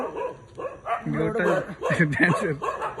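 Dogs barking and yipping in short, close bursts, mixed with people talking over them.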